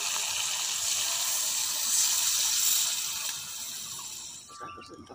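Water gushes steadily into a pan for a few seconds, then tapers off with a few clinks near the end.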